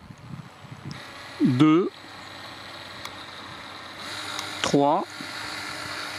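A Parkside PKPA 20-Li A1 cordless caulking gun motor whines up and down as its speed changes, two rising and falling electric whirs a few seconds apart, with a person speaking over it.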